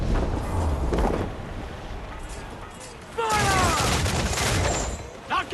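Ship cannons roar in a dense broadside during a naval battle in Assassin's Creed 4: Black Flag, after a quieter rumbling lead-in. Crew voices shout over the loud, rolling volley.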